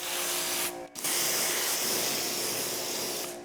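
Two bursts of ceramic coating spray hiss onto a rag in steady, close, loud sprays with a brief pause between them, no talking.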